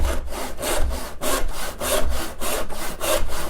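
Steady back-and-forth rasp of a hand saw cutting wood, about a dozen even strokes in a regular rhythm, close and fairly loud.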